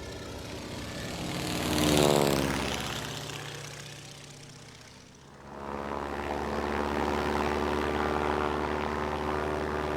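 A single-engine propeller airplane drones steadily in flight, its tone swelling and shifting pitch as it passes, then settling into a constant hum with no voices.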